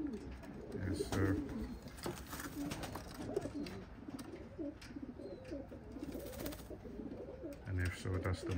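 Racing pigeons coo in a breeding loft, soft repeated throaty rolls layered over one another at close range, with a voice talking over them throughout.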